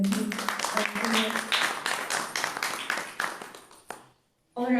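Audience applause at a Brahma Kumaris spiritual gathering in Tandwal village, Barara: a dense, steady wash of clapping for about four seconds that fades out, with a voice resuming afterward.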